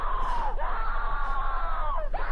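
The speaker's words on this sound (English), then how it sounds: "The screaming won't stop!" Sustained, loud screaming from the distorted Mickey Mouse.avi animation, a continuous shrill wail with two brief dips in pitch and no pause across the whole stretch.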